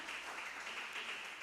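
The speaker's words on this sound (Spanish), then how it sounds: "De la otra ofrenda de palmas al Señor." A church congregation at a devotional service applauds for the Lord. The dense, steady clapping sounds distant and faint, with no voices on top.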